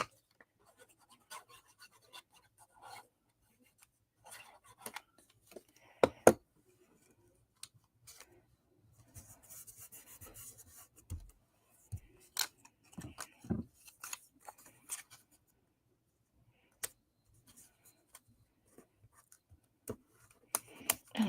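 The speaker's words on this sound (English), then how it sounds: "And anything that hangs off, we'll just trim it." Scissors trimming overhanging craft material that has just been glued down: sparse, close, sharp snips and scratchy rubbing, scattered irregularly with quiet gaps between.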